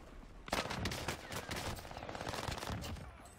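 Rapid automatic gunfire in a video game, a dense stream of shots that starts abruptly and continues steadily at moderate distance, fairly faint overall.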